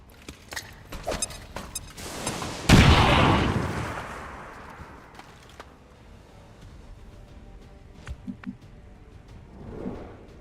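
Bombs dropping in XCOM 2: War of the Chosen, a single heavy explosion erupting loudly and rumbling away over a couple of seconds, preceded by scattered small clicks and pops.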